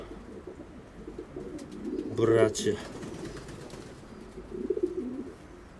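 Wanroy pigeons coo softly in low, throaty bursts, with a brief flutter of wings and a voice speaking nearby.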